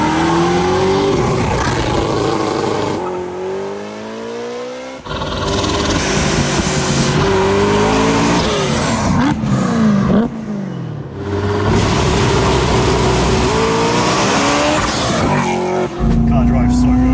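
Loud BMW E90 M3 engine revving hard, pitch climbing repeatedly to the limiter with brief drops between pulls, recorded close from inside the car.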